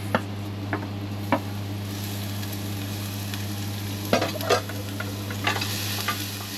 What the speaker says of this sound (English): we're gonna heat up some olive oil in this skillet. We're gonna add in the garlic